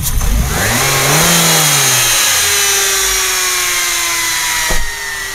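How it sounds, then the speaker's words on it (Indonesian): Nissan Serena C24 engine revs, falls back and shuts off, leaving a steady whine from the still-spinning alternator pulley, close and loud, with a brief thump near the end and no voices. "ini suara alternator yang masih berputar"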